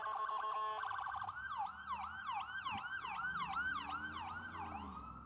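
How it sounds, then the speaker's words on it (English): An ambulance siren passes on a city street, its rapid rising-and-falling wail repeating steadily for several seconds, fairly distant and gradually fading, with no talking. "Let me wait until this ambulance pass."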